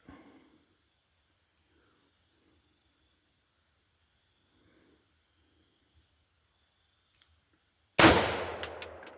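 A single loud blast from a Tokarev TX1 12-gauge pump shotgun fired at a metal target, with a sharp crack and a ringing decay, following several seconds of near silence with faint handling clicks.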